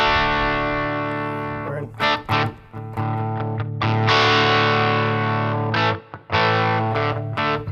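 Charvel DK24HH electric guitar played through a Line 6 Pod Go preset, loud and heavily distorted, ringing chords sustained with a few brief choppy breaks and restrikes, no voice.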